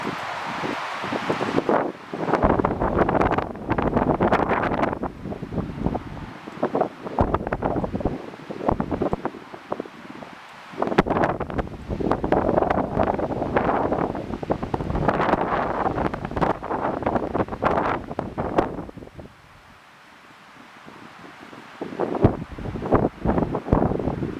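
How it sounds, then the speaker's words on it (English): Strong wind gusting across a microphone on a hiking trail near a river, loud buffeting bursts that come and go with brief lulls, rustling in between. "You hear the wind"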